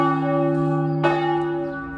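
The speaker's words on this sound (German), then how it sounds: "Wir hören die Kirchenglocken immer." Church bells ring from the island church on Lake Bled in Slovenia, a rich sustained tone with long humming overtones, and a single fresh strike lands midway while the previous peal is still decaying.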